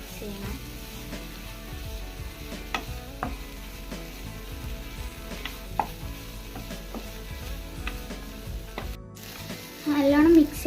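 Chopped chicken for a pasta sauce sizzles steadily in a hot pan while a utensil stirs and scrapes through it, with a louder clatter of stirring near the end.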